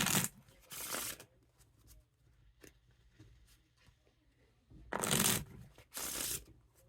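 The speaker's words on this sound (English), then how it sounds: "Now time for that riffle shuffle or bridge shuffle." Four bursts of riffle shuffling from Teal Aristocrat Hollywood Casino playing cards, a fairly thick card stock: two crisp fluttering riffles at the start and two more near the end, with quiet handling sounds between.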